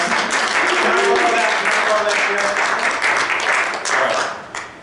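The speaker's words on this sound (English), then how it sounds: "Give her applause." Audience applause at a holiday magic show, a few seconds of full clapping with voices audible underneath, tapering off at the end.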